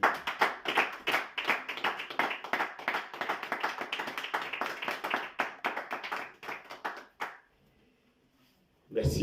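A church congregation claps in a steady, lively rhythm, many hands together filling the room for about seven seconds before stopping abruptly into near silence.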